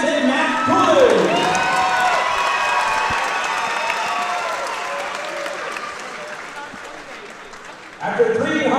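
Arena crowd applauding and cheering for two fighters after a three-round bout, a broad sustained roar of clapping with whoops, over which an announcer's voice is heard at the start and again at the end.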